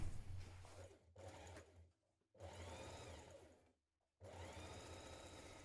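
A sewing machine stitches a one-centimetre dress seam in three close, steady running bursts, with two short pauses between them.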